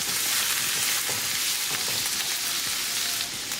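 Minced garlic and ginger frying in hot oil in a pan for cluster beans sabzi, a loud, continuous sizzle with faint stirring scrapes, close and steady throughout.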